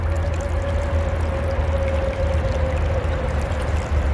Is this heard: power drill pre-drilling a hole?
no